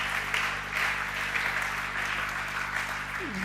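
A church congregation applauds during a worship service, sustained, dense clapping from a crowd that carries steadily throughout, with faint background voices beneath it.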